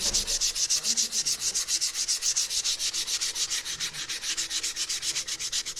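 Hand sanding with 80-grit paper on the wooden body of a bass guitar, a steady rhythmic back-and-forth rasp of about five strokes per second, close and alone with no talk.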